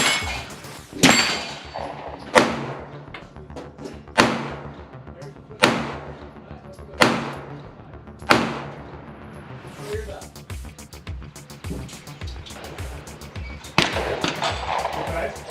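A Springfield Hellcat pistol fires a series of sharp, loud shots, roughly one every one to two seconds, then more irregular shots, with someone talking between them.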